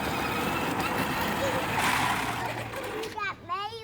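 Mail truck rolls past with a loud engine rumble and a hiss of tires, while an announcer is heard close by and a short chirping tone sounds at the end.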